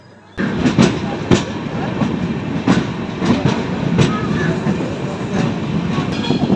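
A delayed passenger train pulls into Ayodhya Dham Junction, loud and close, with steady rumbling, rhythmic clickety-clack of wheels over rail joints and intermittent sharp clanks throughout.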